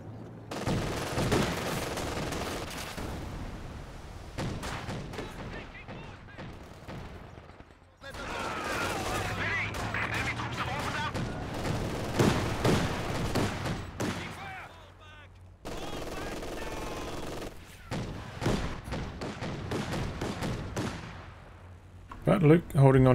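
Sniper fire aimed at a machine gun position in Company of Heroes 2, with battlefield gunfire, bursts and mechanical clatter over several stretches, fairly quiet and mixed with ongoing combat noise.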